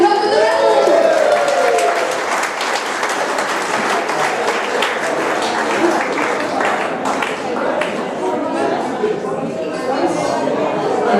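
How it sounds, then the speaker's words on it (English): Crowd at a Brisbane folk history book launch gives raffle helpers a long, steady round of applause, dense overlapping claps with crowd chatter mixed in throughout. "Can we have a big round of applause for all the people who helped with the raffle?"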